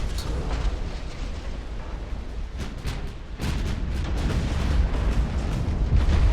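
Torpedoes striking and exploding against a warship in the naval battle game Ultimate Admiral: Dreadnoughts: a sustained, rumbling roar of detonations with a fresh surge midway, loud and dense, with no talk over it.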